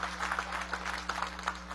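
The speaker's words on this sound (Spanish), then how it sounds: "Valga el aplauso para ellos." Faint, steady applause from a chamber audience at a session of Venezuela's National Assembly, heard as a distant patter over a constant low electrical hum.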